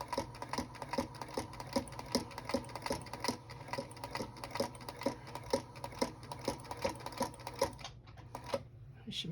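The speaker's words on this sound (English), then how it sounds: "we're going to go stitch about 1/8 of an inch from the edge, just top stitch" A sewing machine top stitches along the edge of a fabric tea wallet in rapid, steady bursts, with short pauses between runs and a brief stop near the end before it starts again.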